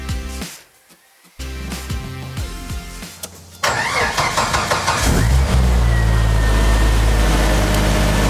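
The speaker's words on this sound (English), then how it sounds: "So the Jeep starts, runs just fine, engine sounds real smooth right now." A Jeep engine cranks in a few short bursts, catches and roars to life, then settles into a loud, steady idle close by in a shop.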